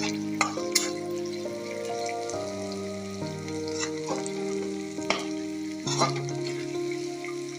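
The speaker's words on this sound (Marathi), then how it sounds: "त्यानंतर टाकूया शेंगदाणे, अर्धा चमचा हळद आणि चांगल्या प्रकारे मिक्स करून घ्यायचं आहे" Peanuts and turmeric frying in oil for kande pohe, stirred with a spoon, a continuous sizzle broken by several sharp scrapes and clinks, with a steady hum underneath.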